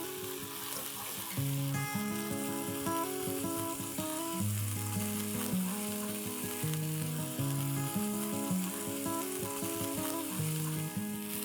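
Coconut and onion paste fries in hot oil for a Nashik-style misal, giving a steady low sizzle with occasional stirring, heard beneath prominent background music throughout.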